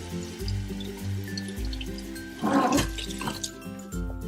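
Water is poured at an angle into a sprouting glass holding seeds under a strainer lid, giving uneven splashing gurgles and trickles that surge and pause, with a louder burst of splashing midway.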